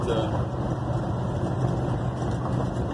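A 1972 Ford F100 four-wheel-drive pickup truck driving along, with a steady loud engine and road rumble heard from inside the cab and a voice talking over it.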